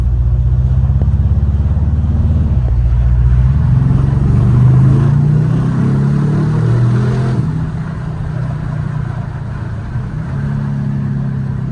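An Aston Martin DBX S SUV pulling away hard near Monaco, its engine rising in a loud, close growl of revs that peaks mid-run and then settles into a steadier drone. No one talks.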